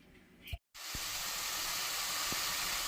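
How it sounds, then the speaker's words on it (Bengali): Leafy greens frying in a home kitchen pan give a steady, loud broadband sizzle and hiss that runs almost throughout, broken by one short silent gap and a couple of faint knocks. "তাড়াতাড়ি করে শাকটা ভেজে নিই"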